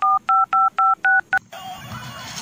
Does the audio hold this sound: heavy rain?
no